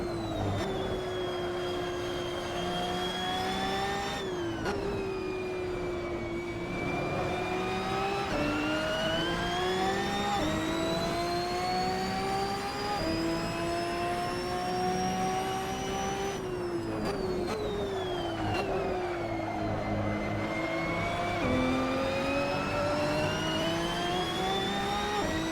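Race car engine in the Assetto Corsa Trofeo game, held at full throttle with rising and falling pitch through gearshifts, loud and continuous with no talk.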